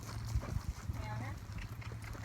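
A gaited horse cantering in a round pen, with soft thudding hoofbeats in an uneven rhythm, close by and moderately quiet, under a rider's voice and some breathing.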